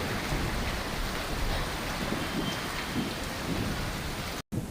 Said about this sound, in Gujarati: આ દ્રશ્યો છોટાઉદેપુરના છે કે જ્યાં આગળ પણ ગાજવીજ સાથે વરસાદી માહોલ જામ્યો